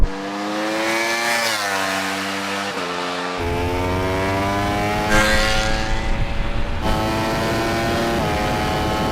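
Ducati motorcycle in a drag race against an Audi, its engine revving hard with rising whines that drop sharply at each downshift, loud and sustained throughout, heard without any speech.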